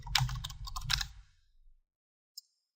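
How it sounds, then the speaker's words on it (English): Quick keystrokes on a computer keyboard entering a resource name in Microsoft Project 2013, a close burst of clicks over about a second, then a single isolated tap after a pause. "For this one, we'll type in MS Word."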